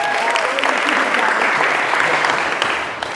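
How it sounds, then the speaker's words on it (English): Dense applause from a networking-event audience greeting a speaker after her elevator pitch, steady and fairly loud throughout, easing slightly at the very end. "Round of applause for Stephanie."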